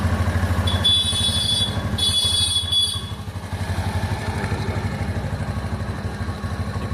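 A motorcycle engine runs at a steady idle in neutral during bike electrical work, its continuous low chugging pulse loud and close, with a brief metallic clatter near the start and no talk.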